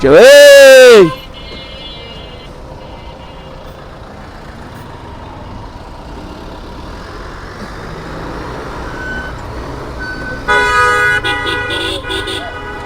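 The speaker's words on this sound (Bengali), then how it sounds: "রাস্তায় জ্যাম" A sharp, loud car horn blast opens a motorbike ride through a congested road traffic jam, followed by a steady rumble of engines and road noise, with more horn toots and beeping from nearby vehicles near the end.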